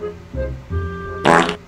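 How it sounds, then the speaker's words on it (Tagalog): A fart, heard as low, rumbling, buzzy bursts in a row, then a louder, rougher blast at the end, close and clear with no talk. "May utot pa, baho."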